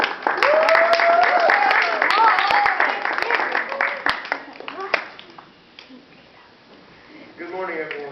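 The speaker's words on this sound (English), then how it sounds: "And now, a round of applause for the fiery furnace" Audience applause for a Bible-story stage skit about the fiery furnace, loud dense clapping with cheers and whoops layered over it for several seconds before tapering off, a voice starting to speak near the end.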